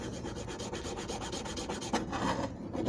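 A metal file rasps back and forth against an alternator carbon brush, a steady rhythmic scraping of repeated strokes, close and fairly loud, with no one talking.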